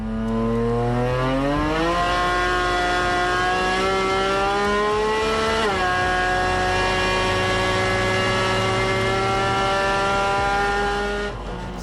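A Nissan RB25-engined car producing over 600 kilowatts revs hard, its engine note climbing steadily, briefly dropping, then rising again into a sustained high-rpm scream, loud and close with no talking.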